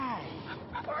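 George Bush's dogs at the White House whimper and yip in short, close, high-pitched bursts under a soft background hum, with no talk heard.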